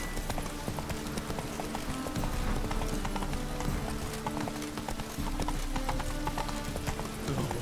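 Roach, a horse galloping in The Witcher 3, pounds out rapid rhythmic hoofbeats in a continuous clip-clop, loud and close, with faint snorting.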